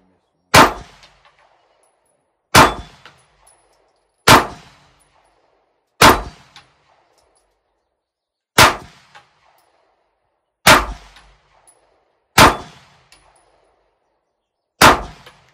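Eight sharp Canik pistol shots ring out at an outdoor range at uneven intervals of about two seconds. Each shot is loud and near, followed by a short metallic clang from a steel target and a quick decay into silence.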